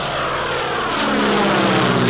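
A Curtiss Hawk propeller plane with a 700-horsepower engine in flight, its loud, steady engine drone and propeller roar filling the air continuously, slightly swelling toward the end.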